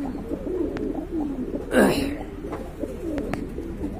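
A pair of large pigeons coos close by in low, rolling phrases that repeat steadily, with a brief rustling flutter partway through.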